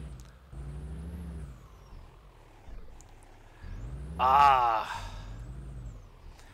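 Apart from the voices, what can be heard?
Peterbilt 389 truck driving in video game Euro Truck Simulator 2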